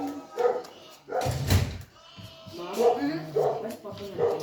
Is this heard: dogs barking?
yes